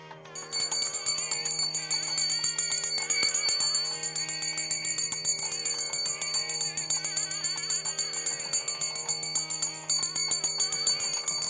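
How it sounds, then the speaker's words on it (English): Small handheld ritual bell rung steadily during a Hindu homam, a bright continuous ringing that carries on for over ten seconds, close and alone without talk. "At this time, normally you will ring the bell."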